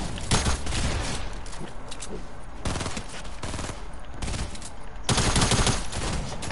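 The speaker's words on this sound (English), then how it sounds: "Don't shoot at me." In the Fortnite video game, bursts of gunfire ring out in loud, repeated volleys, some rapid like automatic fire, with pauses between them and voices talking faintly underneath.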